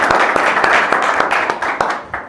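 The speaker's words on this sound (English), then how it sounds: "Let's give Ryan a good round of applause." An audience at a pitch event applauds presenter Ryan of CH4 Microbial, with a short, dense burst of clapping that fades toward the end.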